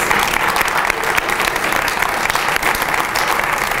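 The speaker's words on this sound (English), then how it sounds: "Let's have one more round of applause for our student athletes." Loud, dense applause from a school crowd celebrating student athletes at a signing ceremony, a continuous close roar of many hands clapping, steady throughout with no speech.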